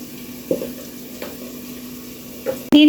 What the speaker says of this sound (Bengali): সব কিছু একত্রে বেশ কিছুক্ষণ ভেজে নেব।